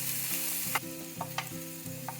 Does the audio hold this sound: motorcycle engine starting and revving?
no